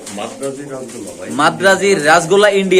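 Golla pigeons for sale coo in soft, rolling calls throughout, mixed with people talking nearby; the cooing grows louder and busier in the second half.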